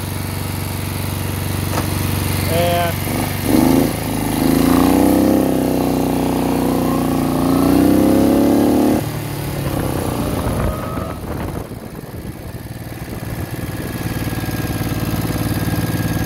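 A 1968 Moto Guzzi V7 700 motorcycle engine idles high and steady close by, a continuous low mechanical drone that holds throughout, with a brief spoken word near the start.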